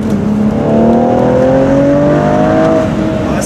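A turbocharged car accelerates hard from close range, its engine note climbing steadily and loudly through the rev range in one continuous pull.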